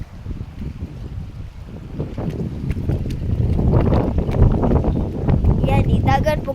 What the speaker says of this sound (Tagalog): Kusog kay hangin guys oh.